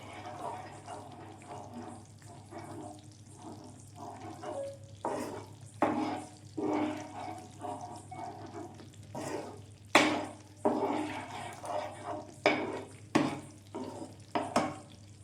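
Mysore pak mixture of ghee being stirred continuously in a pan, with soft scraping strokes and bursts of bubbling sizzle coming in irregular pulses, fairly quiet and close.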